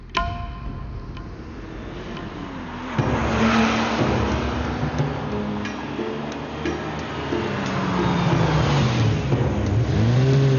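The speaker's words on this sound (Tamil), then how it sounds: "வண்டியை திரும்ப பேங்க்குக்கு விடு" Car being driven, a steady engine drone with shifting pitch and rising road and wind rumble, close and continuous throughout.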